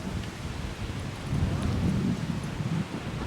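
Strong wind buffets the microphone on a beach at Calatagan, Batangas, a continuous low roar that gusts louder midway through.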